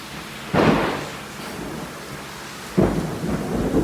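A nighttime lightning storm heard from indoors beside a bedroom window, with two loud, close thunder cracks and rumbles about two seconds apart over steady rain.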